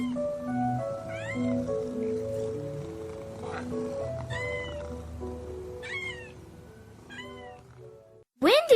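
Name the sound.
kittens and mother cat meowing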